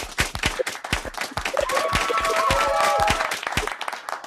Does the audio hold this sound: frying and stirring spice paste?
no